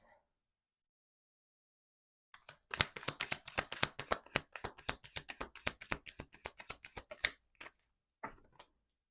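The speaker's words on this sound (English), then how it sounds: "I'm just going to get all the cards out first" A deck of tarot cards is handled and laid out at close range, with a rapid burst of crisp riffling and flicking flutters over several seconds, then a few separate soft card snaps after a short pause, in an otherwise quiet room.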